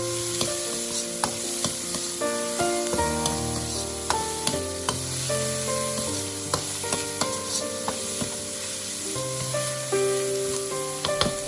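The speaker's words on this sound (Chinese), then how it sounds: "把小米辣、大蒜、干辣椒节加进来，再快速的翻炒，炒出香味" Millet chili, garlic and dried chili pieces are stir-fried in a wok over high heat, a constant close sizzle with scraping stirs throughout and light music beneath.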